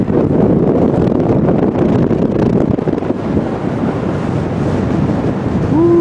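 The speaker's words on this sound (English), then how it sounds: "the wind is blowing strong" Strong wind buffets the microphone outdoors during a summer family trip in Colorado, a loud, continuous roar that never lets up.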